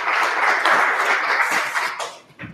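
A crowd at a startup pitch gathering claps for a presenter, a broad, dense burst of applause that stays loud before thinning out and fading near the end.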